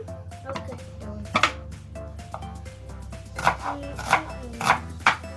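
A knife chops an onion on a board while making beef stew, giving a handful of sharp separate thuds amid background hum and kitchen bustle, with people talking around it.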